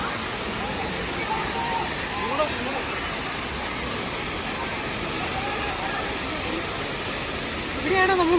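Areekkal waterfall rushes in a loud, steady roar of falling water, with voices of a busy crowd faintly mixed in.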